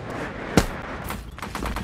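A sharp single gunshot cracks out, followed by a quick spatter of softer shots in the background of a noisy scene, during a tournament match of the video game Creative Destruction.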